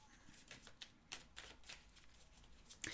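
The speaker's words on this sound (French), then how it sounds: "on va d'abord se mélanger les cartes" Tarot cards being shuffled, a faint run of quick papery riffles and flicks close by, ending in a sharper snap.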